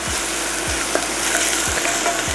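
Minced garlic and half a yellow onion sauté in olive oil with a loud, dense, steady sizzle close by. Low spoon scrapes come through at regular intervals.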